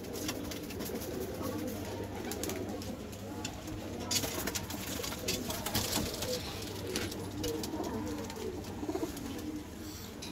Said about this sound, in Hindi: आपके लिए आज काले कबूतर लेके आए हैं